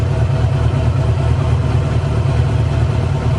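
A Yamaha R6 motorcycle engine idles low, just above 1000 RPM, with a steady, close, loud pulsing drone that wavers slightly and unevenly and has no talk over it.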